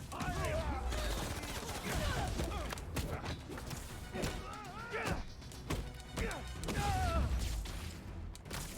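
Turret fire in the Spider-Man 2 video game, bursts of bullets and impacts crashing repeatedly throughout, loud and busy, mixed with game music and voices talking over the action.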